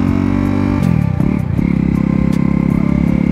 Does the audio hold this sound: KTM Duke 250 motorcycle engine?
yes